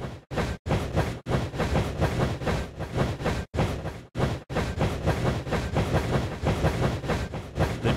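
A toy-like train rolls along the track in the Dinosaur Train video game, a continuous rumbling run broken by short rhythmic gaps like rail joints, fairly loud and without talk.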